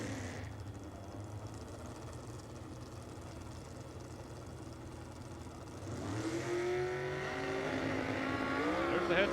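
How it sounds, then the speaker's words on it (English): A small 4-cylinder dragster on a handicap head start at an NHRA drag race, heard as a distant engine drone that swells into a loud, rising roar as the car accelerates down the strip. "There's the head start, the little 4-cylinder dragster."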